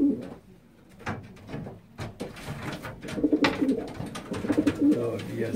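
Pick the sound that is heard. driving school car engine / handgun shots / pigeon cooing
pigeon cooing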